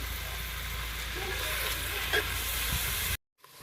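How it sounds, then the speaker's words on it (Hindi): Onions frying in ghee in a pan hiss with a steady close sizzle that runs unbroken for about three seconds before cutting off abruptly. "अब हम प्याज को ना हल्का ब्राउन कर लेंगे।"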